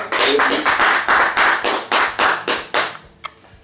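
A crowd at a wedding celebration claps in a steady rhythmic beat, around a dozen loud, close, even claps before fading into near silence with one last stray clap.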